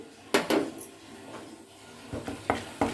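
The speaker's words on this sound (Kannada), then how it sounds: "ಇವಾಗ ನಾನು ಕಡಲೆಬೇಳೆ ಹಾಕ್ಕೊಳ್ತಾ ಇದ್ದೀನಿ" Chana dal being dropped into a pan of hot oil, giving a few sharp clattering knocks and scattering taps, close by, with quiet gaps between the bursts.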